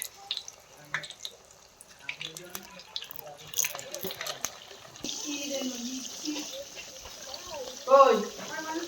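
Chicken pakoras coated in cornflour sizzle steadily as they deep-fry in hot oil in a wok, with the hiss growing louder partway through, while a voice talks over it.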